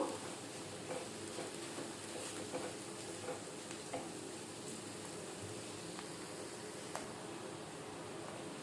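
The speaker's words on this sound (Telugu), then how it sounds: "బ్రౌన్ కలర్ వచ్చే వరకు వేయించుకుందాము" Soya chunks fry in a pan, a soft, continuous sizzle broken by occasional scrapes and clicks of stirring, fairly quiet throughout.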